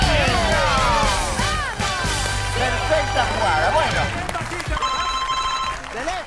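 An electronic telephone ring chirps repeatedly on the Argentine TV game show Trato Hecho, sounding amid studio noise, a loud tonal fanfare and excited voices.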